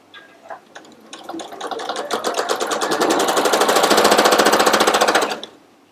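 A sewing machine stitches quilt pieces in a rapid, steady mechanical chatter that starts in short bursts, builds to a sustained loud run, and then stops abruptly.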